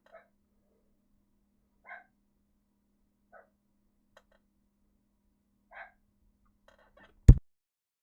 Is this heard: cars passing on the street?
no